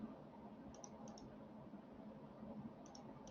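Computer mouse clicking while drafting in AutoCAD 2020: a few faint, crisp double clicks spaced apart over a quiet room-noise background, with no voices.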